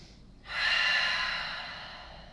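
Slow yoga breath in downward dog: one long, audible breath through the nose and throat, close to the mic, swelling quickly and then fading gradually.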